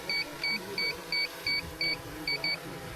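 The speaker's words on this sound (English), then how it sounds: "Now this one is beeping." A series of short, high electronic beeps from a DJI Mini 4 Pro drone controller, about eight in a row at a quick, even pace, over a low background hum.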